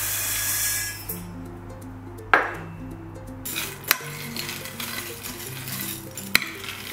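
Salmon pieces are stirred in a pan for a one-pot salmon pasta, with scraping utensil strokes and a few sharp clinks against the metal over a soft background sizzle and low hum, with no talking.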